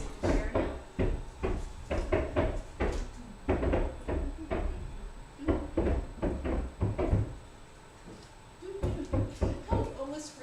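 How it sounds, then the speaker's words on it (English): Two sets of hammering from roofing work sound as irregular, near-rhythmic knocks that repeat through the whole stretch, with talk sometimes heard alongside. "There's at least two of them hammering. I can hear two sets of hammering."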